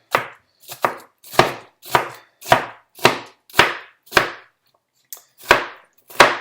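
Knife chopping vegetables on a cutting board for tabouleh salad: eleven crisp, evenly spaced chops in a steady rhythm, close and clear, with a short pause before the last two.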